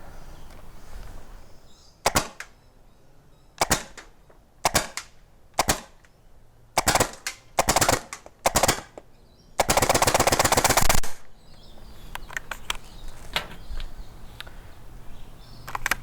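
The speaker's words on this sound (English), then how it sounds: "So for each type I'm going to do a few single shots, a few burst, and then empty the mag" Full-auto HPA foam dart blaster firing ACC darts: a few sharp single shots, then short bursts, then one long rapid-fire volley emptying the magazine, loud and close with no talking.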